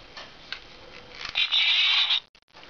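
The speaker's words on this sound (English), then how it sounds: "So first, let's start with the on-off switch." The on-off switch of a Drake Zecter is clicked with a couple of soft, close ticks, followed by a brief, bright, steady hiss or whir that stops abruptly.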